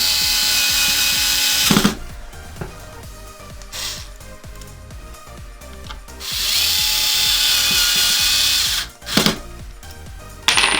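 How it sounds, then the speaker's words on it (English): A power screwdriver whirs in several bursts while driving two screws into the front USB module ribbon of an Xbox One X, with clicks and handling noise in the quiet gaps between runs. "So now I'm gonna screw in these 2 screws that hold this USB module ribbon."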